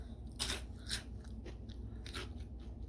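Three or four sharp, close crunches come as someone bites into a burnt, over-fried crispy snack fried in olive oil, with faint chewing in between and no talk.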